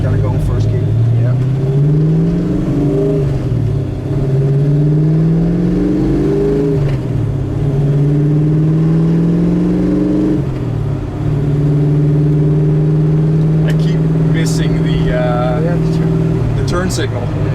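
A 1969 Ford Mustang Mach 1 V8 rumbles loudly in first gear through a U-turn, its revs climbing and dropping in several steady swells, with people talking over the engine.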